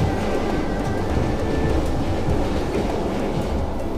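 A train travelling through Vietnam gives a steady, loud rumble and rushing noise from inside a carriage, continuous and dense, with no voices.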